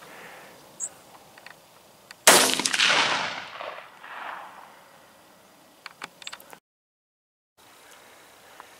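A single sharp rifle shot from a Browning X-Bolt 25-06 loaded with 115 grain Barnes bullets cracks at a range, loud and sudden, with a ringing decay before quieter handling noises and a brief dropout.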